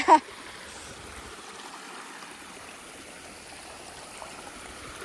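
Faint, steady flowing water from a river stream among hills, a soft continuous rush after a brief knock at the start.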